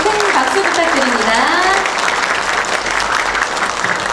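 Audience applause at the official opening ceremony for a next-generation local government finance system in a government complex conference hall, steady and loud throughout, with voices murmuring and calling beneath the clapping.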